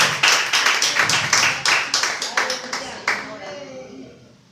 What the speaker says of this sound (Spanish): le demos una ofrenda de palmas a nuestro Dios